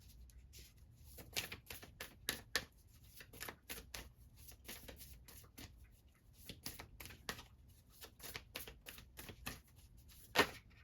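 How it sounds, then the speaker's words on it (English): Quiet, irregular riffling and snapping of tarot cards being poker-shuffled close by, with bursts of rapid flicks and soft taps between them. "Let's give it a good poker shuffle here."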